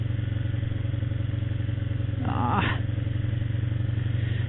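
A motorcycle idles with a steady low engine hum, broken midway by a brief mechanical clunk and clatter as the bike is shifted into neutral.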